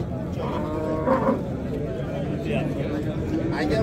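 A cow moos at a moderate distance at a livestock market in Marhamat, Uzbekistan, amid a murmur of people talking and general outdoor background noise.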